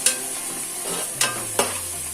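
Boti (tripe) fry with curry leaves sizzles steadily in a pan, with three sharp scraping stirs of a spoon over the hiss.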